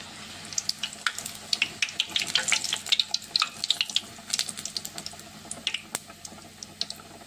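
Fish fritters frying in hot oil crackle with a dense scatter of sharp pops and spits over a soft bubbling hiss, close and fairly quiet, with no talking.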